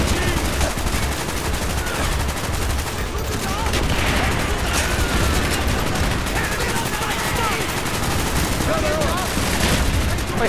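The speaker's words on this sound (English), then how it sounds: "who's shooting me from that way?" Sustained gunfire in Call of Duty: Black Ops, dense overlapping rifle and machine-gun bursts rattling continuously at close to moderate range with battlefield clutter throughout.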